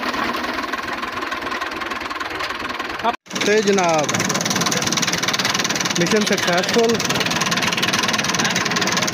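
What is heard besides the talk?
tractor engine revving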